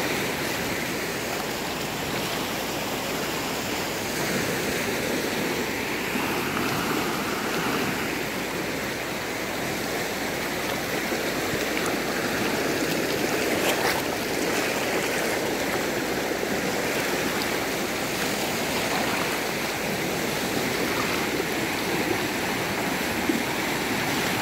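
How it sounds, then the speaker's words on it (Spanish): A river crossing once waded on foot at high water rushes steadily throughout, a dense, unbroken flowing roar with no voices over it. "Doña Paulita cruzaba el río así como está."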